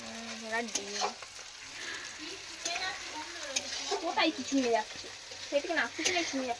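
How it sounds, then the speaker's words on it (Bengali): Chicken sizzles in a frying pan while a spatula stirs and scrapes it, a soft steady frying hiss under voices that talk throughout. "ও হচ্ছে চিকেন রান্না করছে।"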